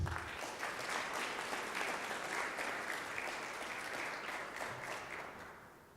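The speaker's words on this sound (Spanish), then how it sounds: "y fuerte el aplauso para él." Sustained audience applause greets an engineer introduced as a speaker at an event, dense steady clapping filling the room for about six seconds before tapering off slightly at the end.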